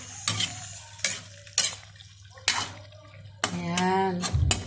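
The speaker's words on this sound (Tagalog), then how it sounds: "Haluin natin ulit." Menudo with pork and beans is stirred in a pan, giving several scraping, clattering strokes of a utensil against metal over a low simmering background, with a brief voice-like tone near the end.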